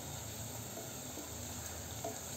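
Garam masala powder being stirred into a pan of Wal Papdi rice, a steady low sizzle with soft stirring scrapes throughout, fairly quiet and continuous.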